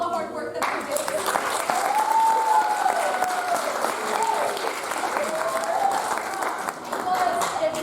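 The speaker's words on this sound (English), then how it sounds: "another round of applause for the kids for all the hard work that they did" An audience at a children's theatre production of Blackbeard the Pirate applauds the young performers with steady, sustained clapping, while a voice or whoops rise faintly through the crowd.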